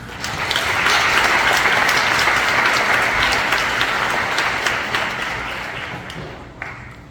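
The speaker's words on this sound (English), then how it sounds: "One last round of applause for her, please." A conference audience in North County San Diego gives a loud, sustained round of applause that holds steady and then tapers off toward the end.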